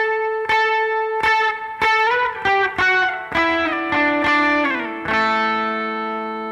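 Electric guitar with effects and slight distortion plays the closing part of a song: a series of bright picked octave notes ending in a slide into a long sustained chord, loud and close with no voices.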